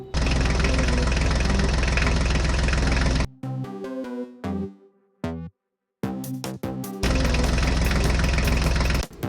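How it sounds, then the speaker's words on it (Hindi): A loud, rough toy mini tractor engine chugs steadily, stops for a few seconds of scattered tonal sounds, then returns at full volume. "चलो ड्राइवर, लेके जाओ अपने अपने मिनी ट्रैक्टर को।"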